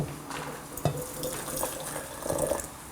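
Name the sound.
boiling water poured into a jar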